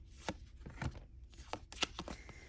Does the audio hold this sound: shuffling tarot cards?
yes